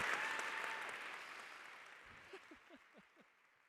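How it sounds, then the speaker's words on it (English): A large gala audience applauds rapidly at a small business awards event, a dense loud burst of fast clapping that fades away over a few seconds, leaving scattered individual claps at the end. "It is very fun to watch adults clap that fast"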